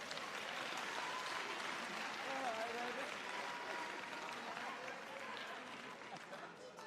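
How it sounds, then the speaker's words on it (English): An audience at an ANC party conference gives a sustained round of applause, a steady, even wash of clapping that runs the whole time at moderate distance, with scattered voices mixed in. "And give them a good round of applause."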